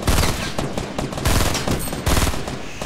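Rapid bursts of automatic gunfire in the Fortnite video game, loud and close, arriving in several quick volleys with brief gaps between them and no talk over the shots.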